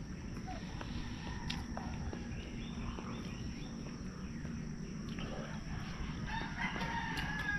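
A backyard rooster crows over steady background noise, with a few clucks and rustling footsteps mixed in.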